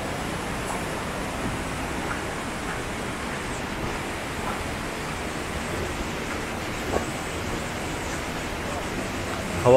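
A clear mountain river babbles beside a mossy hiking trail in the Hōō Sanzan range, along the Dondoko valley route. Its steady, close rushing wash fills the whole stretch without pause.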